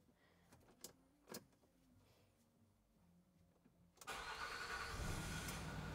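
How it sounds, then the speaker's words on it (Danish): A car engine cranks and catches, settling into a loud steady idle after a few quiet knocks and clicks; no one speaks. "Så vi tænder bilen"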